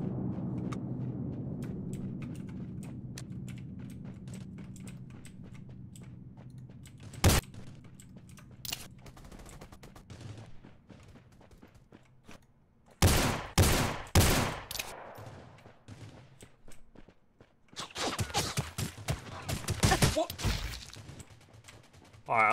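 Video game gunfire in Rules of Survival on a snow map: a single sharp shot, then rapid bursts of automatic fire in clusters, loud and close, with quieter stretches and a player talking in between.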